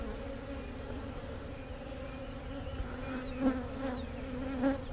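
Honey bees from a newly hived swarm in Texas hum steadily during a calm hive inspection, a close continuous drone with a few brief louder passes near the end.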